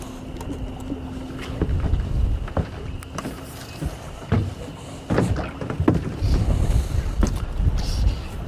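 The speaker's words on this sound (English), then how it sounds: "Wind's starting to pick up again." Gusts of wind batter the microphone on a fishing boat out on the water, with low rumbling buffets and irregular thumps of varying strength throughout.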